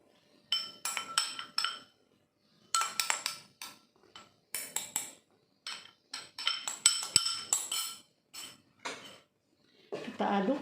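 Spoon stirring rice flour, pandan leaves and water in a pot for porridge, giving repeated scraping clinks in short bursts separated by brief pauses, close and fairly clear.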